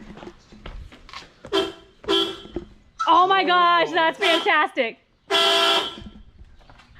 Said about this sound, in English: I'm gonna try honking it.